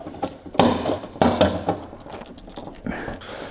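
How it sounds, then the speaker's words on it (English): A handheld deburring tool with a small spinning carbide bit scrapes a nasty burr from sheet metal on a Toyota MR2, giving short rasping strokes in quick bursts with brief pauses between, close and fairly loud. "Here's a deburring tool. This spins around, it's got a little carbide bit."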